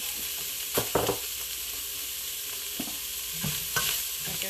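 A spoon stirs homemade chili made with leftover meat in a pot, several scraping strokes in uneven bursts over a constant sizzling fry, close and clear with no talking.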